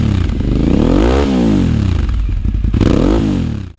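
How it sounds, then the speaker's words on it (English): A Suzuki TL1000R V-twin motorcycle roars loudly and close, its engine and exhaust revving up through the gears with a rising throbbing pitch, dropping briefly, then climbing again before cutting off. "there is that glorious V-twin sound"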